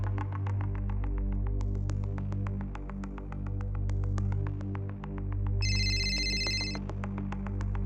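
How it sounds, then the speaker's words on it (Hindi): A phone rings in a drama scene, a repeating electronic ringtone pulsing steadily over a low hum and background music, with a brighter tonal burst near the end; no one speaks. "उसी का फोन है।"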